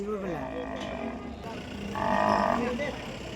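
A single low moo from cattle at the Anantapur livestock market rises over a busy background of voices and chatter.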